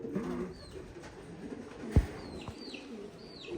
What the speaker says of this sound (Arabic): هذا ولد سلطان يبان بحال الحمام تاع الخلوي.